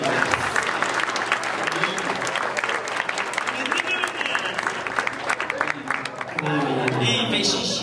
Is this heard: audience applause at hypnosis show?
yes